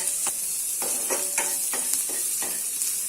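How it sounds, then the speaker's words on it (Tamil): Onion and cumin sautéing in butter for pav bhaji: a bright, steady sizzle broken by regular scraping strokes of a spatula across the pan, close and fairly loud, with no voices. "கொஞ்சம் இப்படி வதக்கிக்கலாம்."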